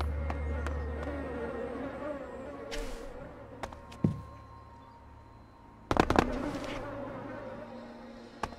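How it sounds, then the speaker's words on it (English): Buzzing bees in the video game Elex, a continuous insect drone at moderate level broken by a few sharp cracking bursts and clicks, with no talk. "sounds like bees."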